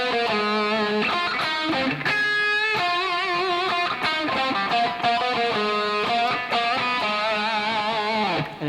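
An electric guitar plays a distorted solo, loud and continuous, with bending sustained notes over a steady backing.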